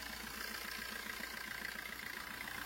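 A 2014 Maruti Suzuki Swift VDI diesel engine idles with a steady, low, even mechanical hum, faint and continuous, with no voices.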